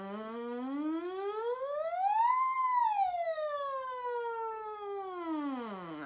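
A single voice glides smoothly up from low to a high peak and back down again, imitating a siren in one sustained sweep.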